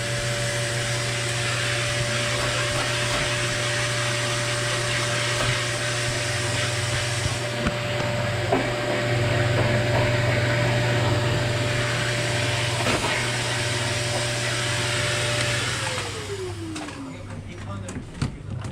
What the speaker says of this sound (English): Oh, it literally is a vacuum cleaner